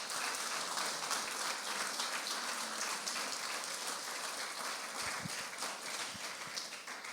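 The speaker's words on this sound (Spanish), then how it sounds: "Dale un fuerte aplauso al Señor, por favor" A congregation at a Christian sermon claps together, a steady, fairly soft wash of continuous applause lasting the whole stretch with no one speaking over it.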